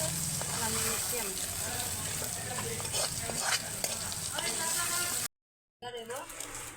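Prawns fry in a pan over a clay stove with a busy sizzle and repeated stirring clatter, under people talking, before a sudden short cut to silence and the frying resumes.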